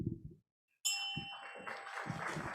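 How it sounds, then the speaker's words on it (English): A bell at a club meeting is struck once, giving a bright, ringing tone that sustains and slowly decays. Brief low thumps come before it and murmurs follow under the ring. "I'd like to ring the bell once"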